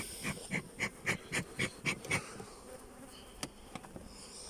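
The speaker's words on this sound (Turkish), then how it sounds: "Uygun bir zaman olmadığı için normalde arımız sakin." Honey bees at a hive during a honey harvest, a run of rhythmic buzzing pulses close by that then thin out to scattered, fainter buzzes.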